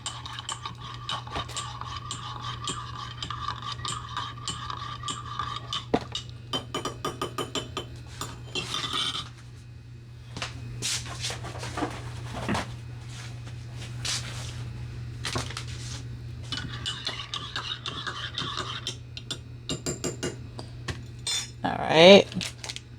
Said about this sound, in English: now we want to give that a nice little stir right there.